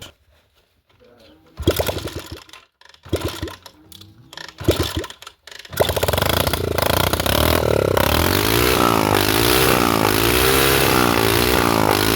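Bull Qipai 2019 motorcycle engine starting up after a few quiet moments of knocks and clatter, then running steadily and loud, close by, with the idle rising and wavering through the remainder.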